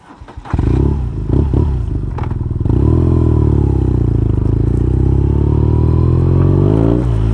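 A motorcycle fitted with a Healtech quickshifter starts with clatter and short blips, then accelerates hard with a loud, rising engine note held through the upshifts, close and with no talk.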